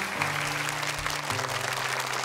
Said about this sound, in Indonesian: boleh tepuk tangan untuk Zain